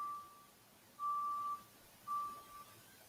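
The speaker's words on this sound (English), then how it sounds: "we're just going to hear all the sirens and the beeping" Faint, steady electronic beeps sound in a slow series of three, each lasting about half a second, against a quiet background.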